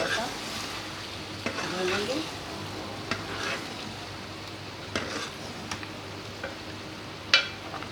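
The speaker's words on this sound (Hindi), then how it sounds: "अब हम इसमें ये दही शामिल करेंगे और ये शिमला मिर्च जो आधी थी ये हम शामिल करेंगे इसी वक्त" Masala being fried and stirred in a pan with yogurt and capsicum added, for spicy chicken dum aloo: a steady close sizzle with scattered spoon scrapes and clinks against the pot, no voices.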